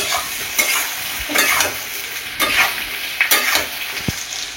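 A curry with ginger-garlic paste and coriander powder sizzles in a pan as a spatula scrapes through it in regular strokes about once a second, close and clear.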